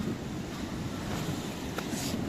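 Ocean waves wash onto the rocky beach at Kanyakumari in a steady, broad roar blended with wind noise, continuous and fairly close.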